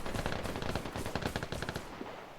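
Rapid automatic gunfire in the video game Vigor on the Grontheim Valley map, dense bursts of shots sounding continuously and fairly loud throughout, with no talk.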